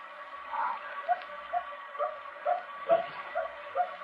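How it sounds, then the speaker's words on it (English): A dog barks repeatedly at a regular pace, faint and distant, with a hollow, muffled quality as if heard from some way off. "There's that dog again. Don't you hear it?"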